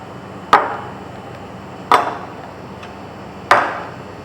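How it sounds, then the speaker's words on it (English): An AeroPress holding 18 grams of medium-fine ground coffee is knocked to level the bed, giving three sharp, close taps spaced about a second and a half apart, each ringing briefly. "I'll go ahead and shake that coffee out, get it good and straight"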